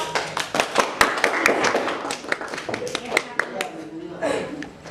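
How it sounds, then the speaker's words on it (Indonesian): Classroom applause for a student group, a scattered run of sharp hand claps from a modest number of pupils, close and uneven, with murmured voices underneath. "tepuk tangan untuk kelompok."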